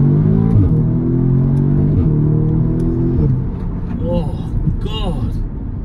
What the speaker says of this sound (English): Between each gear shift it goes boom, boom.